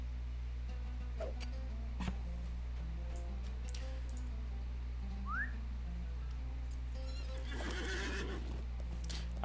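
A horse in the video game Lord of the Rings Online gives a bright whinny amid soft hoof clip-clops, faint bird calls and a steady low hum, with no one talking.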